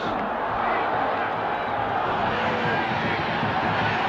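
Penn State student section in a football stadium chants as a dense, steady crowd roar, loud and continuous with no pauses.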